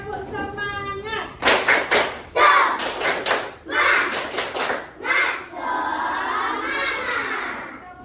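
A school class stands and performs a rhythmic spirit clap, bursts of clapping in patterned groups with shouted chant from the children between them, loud and close in a classroom.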